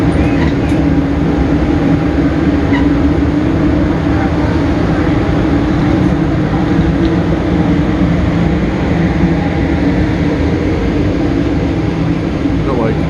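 Amtrak Train #3 arriving at a station at night, a steady low rumble and hum of the train rolling in, with people talking faintly over it throughout.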